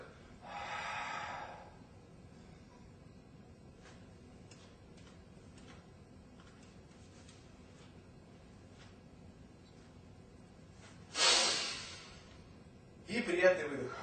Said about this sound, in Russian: Делаем выдох.